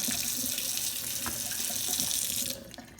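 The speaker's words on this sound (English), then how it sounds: "And the thing I love about this is you just rinse it off" Water runs from a kitchen tap as a drink mixer is rinsed off, a steady close splashing stream that cuts out near the end, leaving a few drips.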